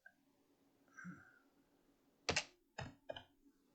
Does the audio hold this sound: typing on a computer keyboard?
yes